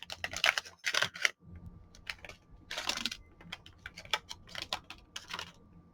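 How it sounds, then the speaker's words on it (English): A package of grilled prawn crackers being opened, with crisp crinkling and tearing of wrapper plastic in short bursts, close by and fairly quiet, and no speech. "Opening up these packages without damaging the packaging too much when they're so beautiful"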